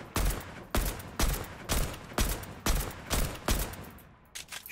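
Gunfire in the video game Fortnite rings out in about eight loud, evenly spaced shots, each a sharp, full-range blast with a brief tail, then softer quicker pops at the end.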